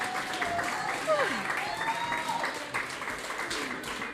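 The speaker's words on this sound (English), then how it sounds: "Let's have a round of applause for the staff 2021." Audience applause rings out at the Rivercity Idol 2021 singing contest, a dense sustained clapping crowd with whistles and cheers mixed in, loud and continuous for the whole stretch while a voice talks over it.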